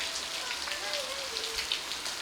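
Heavy rain falling steadily, an even, continuous hiss of drops on surfaces that stays fairly faint and unbroken throughout.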